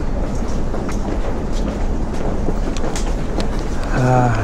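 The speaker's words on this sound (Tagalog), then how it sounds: "Ito galing yung train." A train pulls into a station in Japan with a loud, steady rumble and rolling wheel noise that rises toward a tonal squeal at the end, while a voice speaks over it.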